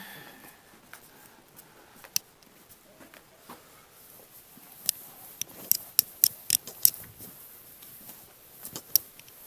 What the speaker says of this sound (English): The pencil sharpener is cool.